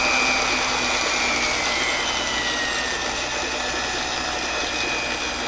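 A motor spinning at 600 RPM at the natural frequency of its rig, with the system shaking hard off balance, gives a steady loud whirring hum with a buzzing rattle throughout and no voices.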